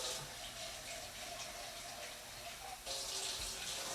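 Tap water running steadily into a pot, filling it about a quarter full for cooking cheap pasta, a quiet continuous splashing stream that brightens toward the end, with no talking.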